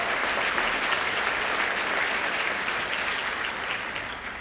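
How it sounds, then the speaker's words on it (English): Staff at a school district convocation give a round of applause, a full, even wash of clapping from a large crowd that holds steady and eases slightly toward the end. "Round of applause."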